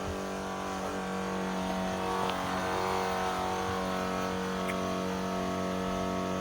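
A Chevrolet C10 pickup truck's engine, fitted with a replacement carburetor, runs steadily with a continuous loud idle drone and no talk throughout.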